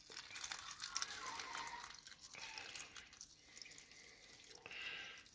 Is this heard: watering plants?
yes